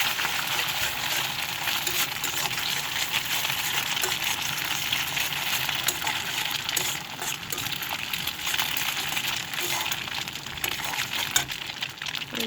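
Egg frying in a pan with onion and pre-boiled meat, a steady broadband sizzle that holds evenly throughout with faint scraping from stirring, close and fairly loud, no talking.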